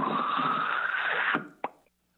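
A voice imitates cranberry sauce sliding out of a can: a sustained wet, hissing squelch for over a second, then a quick little pop at the end, close and moderately loud.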